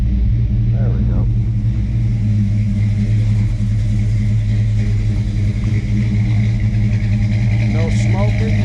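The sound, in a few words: 1952 Chevrolet truck 350 crate motor idling after cold start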